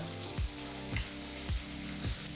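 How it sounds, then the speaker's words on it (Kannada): Onion and curry leaves frying in oil over a medium flame, giving a steady close sizzle with a few soft stirring bumps, no talking. "ಈರುಳ್ಳಿನ ಹಾಕಿ ಜೊತೆಗೆ ಸ್ವಲ್ಪ ಕರಿಬೇವಿನ ಸೊಪ್ಪನ್ನು ಹಾಕಿ ಮೂರರಿಂದ ನಾಲ್ಕು ನಿಮಿಷ ಮೀಡಿಯಂ ಫ್ಲೇಮ್ನಲ್ಲೇ ಇದನ್ನೆಲ್ಲ ಫ್ರೈ ಮಾಡ್ಕೋಬೇಕಾಗತ್ತೆ"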